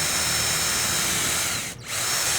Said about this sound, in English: Start your drill.